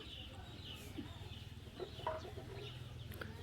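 Chickens clucking softly and intermittently in a quiet rural setting while being fed, with faint background sounds and no clear speech.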